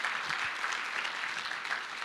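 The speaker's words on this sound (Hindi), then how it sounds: "तो जोरदार तालियां आपके लिए होनी चाहिए" Steady applause from a crowd, dense clapping that fills the whole stretch without pauses, fairly distant and even in loudness.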